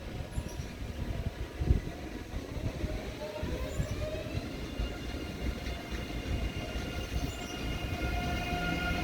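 A train at Munich main station rolls along with a steady rumble and rising screeching tones from wheels and brakes, plus a couple of louder clunks early on, echoing through the hall with no talk.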